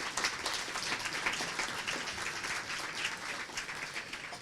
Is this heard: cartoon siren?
no